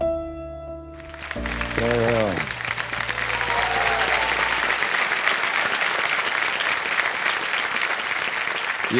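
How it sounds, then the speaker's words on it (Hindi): A studio audience on a television quiz show breaks into applause after a short opening of tones, then keeps up dense, steady clapping at full strength to the end. "ये तालियां जो सुन रही हैं आप अनेरी जी, ये आपके हौसले के लिए है।"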